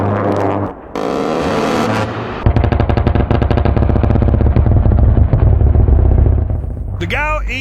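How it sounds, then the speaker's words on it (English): A GAU-8 Avenger rotary cannon on an A-10 Warthog firing, a loud, dense buzzing roar of rapid shots lasting several seconds, preceded by a brief burst and followed by fading whines, with a narrating voice present. "Specifically designed for the A-10 Warthog, this fearsome rotary cannon is renowned for its devastating effectiveness against ground targets."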